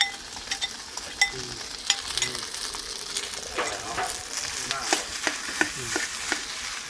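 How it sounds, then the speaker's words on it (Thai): Canned fish fried rice with omelette is stirred and tossed in a hot pan, steady sizzling broken by frequent sharp scrapes and clanks of the spatula, close and loud with no talking. "อันนี้ไข่เจียวที่ผมเจียวเสร็จแล้วผมก็จะเอามาคลุกเขา ใส่ไปเลย"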